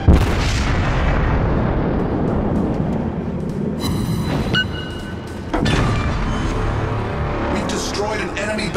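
World of Warships battle with a Mogami cruiser as an enemy battleship is destroyed, heavy rumbling explosions and gun booms rolling continuously, loud and close, with a voice speaking over the din.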